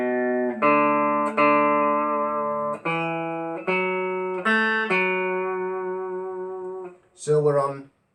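Clean, sustained electric guitar notes play the second phrase of a tune, about seven plucked notes ringing clearly one after another, with a brief voice cutting in right at the end.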